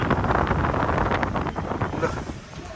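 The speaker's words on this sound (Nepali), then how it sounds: "यस्तो दामी हावा चल्दो रहेछ आम्मा चिल्ड हावा" Chilly wind gusts steadily across a hillside partway up a sightseeing route near Kathmandu, a broad continuous rushing roar buffeting the microphone with no pauses.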